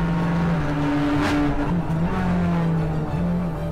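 Race cars pulling away from the starting grid as a race begins, a loud, continuous engine roar with rising revs and a sustained drone, up close.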